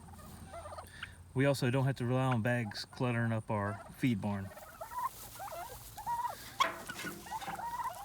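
Pastured turkeys gobbling in a paddock, a loud burst of rapid rattling gobbles from several birds nearby, then softer scattered calls, while someone talks over part of it.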